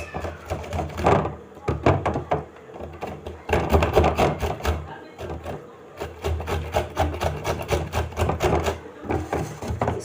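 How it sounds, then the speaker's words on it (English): Okra being grated by hand on a metal grater for okro soup, giving rapid rhythmic rasping strokes that repeat in bursts with short pauses, close and fairly loud. "some of us prefer using a grater like this to do it"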